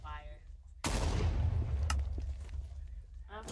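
A tank firing HEAT fire shells in a modded tank video game: one sharp, loud blast followed by a long booming rumble and echoing tail, with a faint voice briefly at the start and end.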